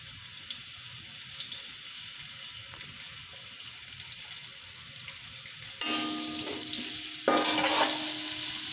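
Onions fry in a few spoonfuls of cooking oil in a deep pot for matar pulao, a soft steady sizzle that jumps louder partway through, with brief scraping and a surge of hissing near the end.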